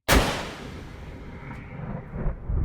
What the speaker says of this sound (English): the sound of gunfire reverberates like the booming of a cannon